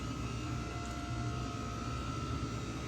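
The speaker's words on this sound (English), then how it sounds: "Like you hear in the background, I've got the heater going." A greenhouse heater hums steadily in the background, a constant droning whir with a faint tonal whine and no change over a few seconds.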